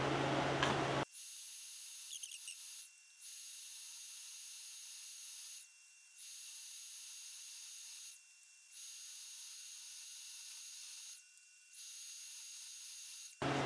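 A drill bit bores a deep, small hole with lubricant, a steady high whine broken by several short pauses as the bit is backed out to clear chips, fairly faint and alone.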